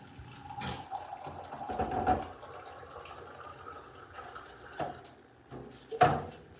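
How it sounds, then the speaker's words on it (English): Water from a tap or jug runs into a cup in a home kitchen while a Caribbean meal is cooked, coming in short uneven bursts with soft splashes and a few clinks, fairly quiet and close. "so I'll put some water in my cup there."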